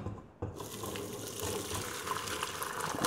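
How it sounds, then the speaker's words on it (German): Pot roast braising sauce gushes from the pot through a sieve in a steady, close liquid pour that starts abruptly and continues without talk. "Und die Soße gieße ich mir auf ein Sieb."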